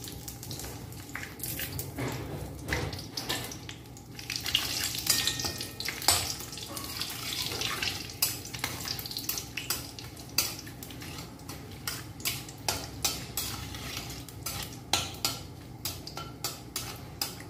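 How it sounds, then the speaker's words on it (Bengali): Dried red chillies and bay leaf sizzle in hot oil in a home kitchen while mutton curry is prepared, a steady frying hiss broken by clinks of a utensil against the pan. "এখন শুকনো লঙ্কা ফোড়ন দেব।"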